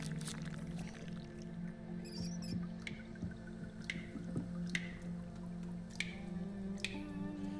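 A pipe drips in the video game Look Outside, with sharp, irregular drops falling every second or so over a steady low ambient hum, fairly near and moderately loud.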